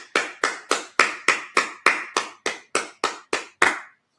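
A congregation at a Sabbath service claps together in a steady, evenly spaced rhythm, about thirteen sharp unified claps ringing close and loud before stopping abruptly.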